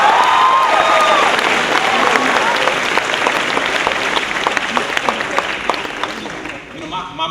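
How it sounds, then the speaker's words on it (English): Audience at a hip-hop education panel breaks into loud, sustained applause with some cheering, full and close at first, then gradually thinning toward the end. "I just want to hear another round of applause for that young lady for that brilliant song"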